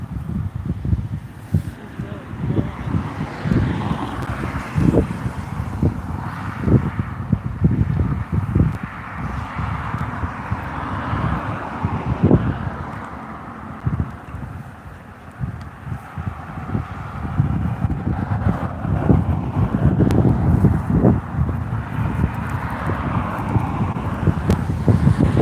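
Blustery wind buffets the microphone in rough, uneven gusts, with a constant rumbling roar that swells and eases over the whole stretch while occasional voices come through.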